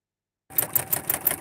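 An embroidery sewing machine starts up abruptly and stitches a Mare's Leg pistol patch, its needle hammering in a fast, steady rhythmic clatter that is loud and close after a moment of silence.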